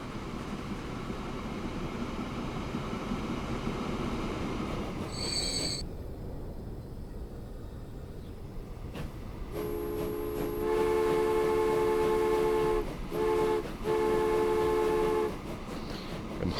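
A train running in the Transport Fever video game: a continuous rolling rumble of the moving train, with a brief chime and then a sustained multi-tone horn blast sounding in bursts over the rail noise.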